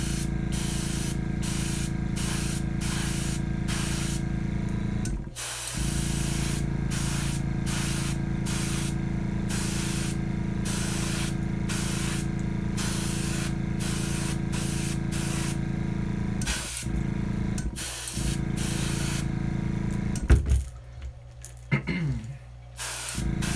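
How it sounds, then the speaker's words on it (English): An airbrush sprays paint onto 3D crankbait fishing lures in long continuous hissing bursts broken by brief pauses, ending in a few short choppy sprays. "what you want to do for this pattern is spray front, back."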